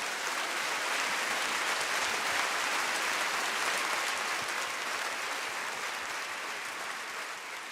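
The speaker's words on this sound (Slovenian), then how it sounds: "Velik aplavz za vse" Audience applause at a televised children's song-and-dance show in Maribor, a dense, sustained wash of many hands clapping that fades slightly toward the end.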